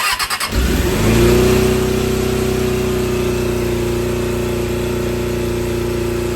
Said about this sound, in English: So I'm going to fire it up. It's idling a bit fast at the moment